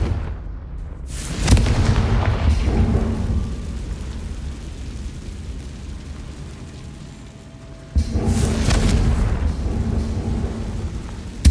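Confringo blasting-spell explosions from Hogwarts Legacy, two loud booming blasts with long rumbling decay, the second arriving several seconds after the first as the rumble fades.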